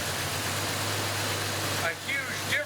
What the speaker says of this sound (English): even though my engine is running a little rough